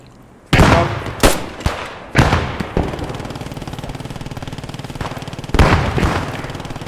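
Machine gun fire in the Post Scriptum wartime shooter: loud, close bursts of gunshots, a few heavy sharp cracks followed by a steady rapid rattle of automatic fire, then another strong burst.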